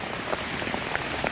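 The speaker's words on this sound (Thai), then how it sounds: "ฝนตกแรงเกิน" Heavy rain pours down during a flood in Rayong, Thailand, beside a fishing spot, a steady broadband hiss with scattered distinct drop impacts, close and continuous with no voices.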